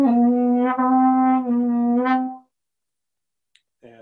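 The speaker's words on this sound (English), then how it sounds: "stopped horn creates a really piercing nasally sound" A single sustained stopped horn note with the bell sealed by the palm, a piercing, nasal buzzy tone held loud for about two seconds with slight wavering before cutting off into silence.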